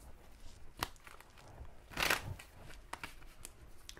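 Tarot cards are shuffled by hand, giving soft, scattered riffling and flicking with one louder burst midway and a few sharp snaps, all close and quiet with no voice.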